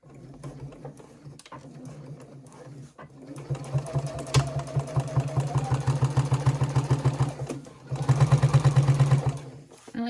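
A sewing machine stitches the seam of a small fabric pouch, starting with a few scattered clicks and then running in a fast steady mechanical chatter. It pauses briefly, then resumes louder and close by.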